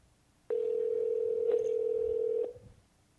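A single steady telephone ring tone sounds for about two seconds on a call placed to an auto attendant, clear and loud over faint background hiss, then cuts off.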